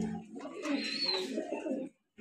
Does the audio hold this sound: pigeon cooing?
yes